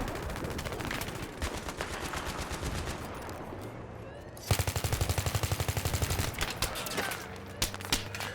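Video game battlefield gunfire coming from behind the player: steady automatic fire rattles throughout, with a dense, louder rapid burst in the second half, and someone speaks briefly over it.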